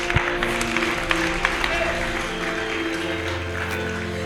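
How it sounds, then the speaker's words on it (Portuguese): A church congregation applauds during a Portuguese-language sermon, a moderate wash of clapping with a few sharper claps, steady under a sustained musical drone and faint voices. "Você pode aplaudir o nome do Senhor Jesus?"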